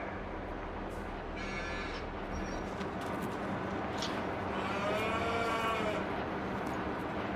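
Cows in Farming Simulator 22, on the Court Farm Country Park farm, give a few drawn-out lowing moos midway through, set against a steady bed of game ambience and machinery hum.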